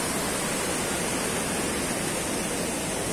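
Water rushes in a steady, dense, unbroken wash at the source of the Cali River in Colombia, filling the scene evenly with no voices.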